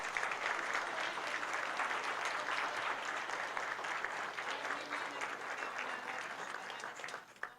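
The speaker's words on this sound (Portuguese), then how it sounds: "uma salva de palmas para todos nós" Sustained applause from an audience at a labor-union meeting with regional labor officials, broad steady clapping filling the room for several seconds before tapering off near the end.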